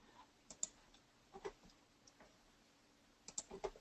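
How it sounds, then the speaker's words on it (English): Several crisp computer mouse left clicks in sparse, uneven pairs and singles, close and fairly faint against a quiet room while a paper card is being edited on screen. "And I'm left clicking and delete."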